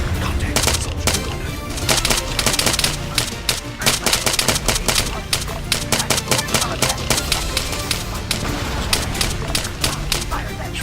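Dense, loud gunfire in the military game ArmA 3, with rapid automatic bursts and single shots going almost nonstop, close by and mixed with voices giving calls.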